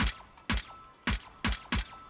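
A video game weapon skin effect made of glass shattering with a laser-like shimmer, played as five sharp crashing bursts at uneven intervals, loud and close, with no talking.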